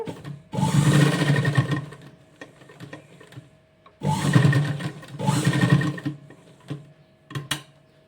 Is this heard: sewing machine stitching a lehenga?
yes